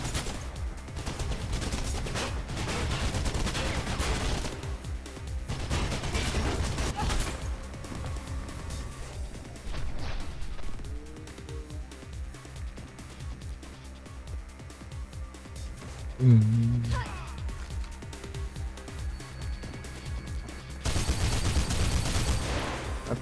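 Gunfire in the video game Mirror's Edge: bursts of rapid shots and volleys coming in clusters, loud and close, with brief quieter gaps and a short crash between bursts.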